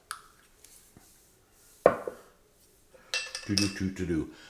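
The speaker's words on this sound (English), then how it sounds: "So we're going to pull the lid off that." Lid being pulled off a BBQ sauce bottle, a sharp plastic snap followed by a short sequence of clicks and knocks, close and fairly quiet.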